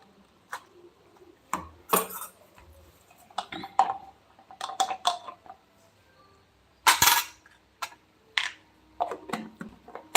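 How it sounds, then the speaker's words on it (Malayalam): Dishes and cutlery clatter in a home kitchen as they are gathered and washed: scattered sharp clinks and knocks, some close and loud, come in irregular bursts separated by short quiet gaps. "പാത്രങ്ങളൊക്കെ കഴുകി വെക്കണം"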